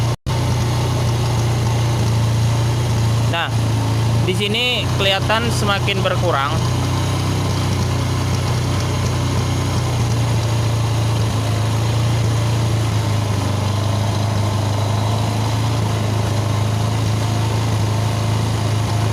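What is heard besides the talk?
motorcycle engine started and idling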